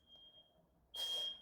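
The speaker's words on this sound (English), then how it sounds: "Our alarm is going off." Indoor smoke alarm sounding a thin, high, piercing electronic tone, held steadily at first, then returning under a brief burst of broadband noise, faint and somewhat distant.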